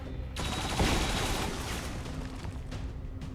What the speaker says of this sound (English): There's heavy fire in this zone!